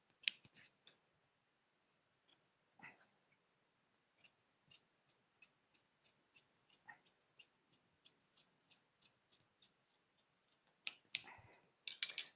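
Scissors cut blouse lining fabric in a sewing room, a string of sharp, dry snips ticking out in a steady rhythm, with a few louder clusters at the start and the end, close and fairly quiet with no talking.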